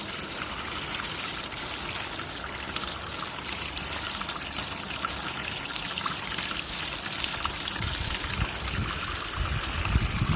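Water trickles out of a radiator manifold being cleaned, carrying scale deposits, as a steady, continuous close-up flow that builds slightly toward the end.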